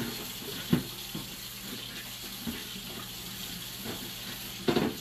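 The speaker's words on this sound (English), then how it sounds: "Waiting for the water to warm up a little bit." Water runs steadily from a kitchen tap into a sink before washing dishes, a continuous hiss broken by a few louder splashes and clatters, with no talking.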